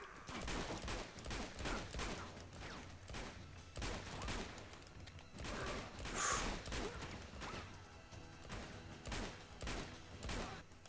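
Gunshots in Uncharted 2, a steady rhythm of sharp shots roughly every half second across the whole stretch, moderately loud and close, with faint mechanical clatter between them.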